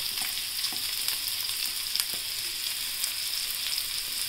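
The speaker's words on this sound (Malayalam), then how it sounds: "ഉള്ളി ഇട്ടിട്ട് ഇത് കുറച്ചൊരു ലൈറ്റ് ബ്രൗൺ ആവണം." Onions sizzle and fry steadily in a pan for a veg lasagna, a constant bright crackle with occasional sharper pops from stirring, close and alone with no talk.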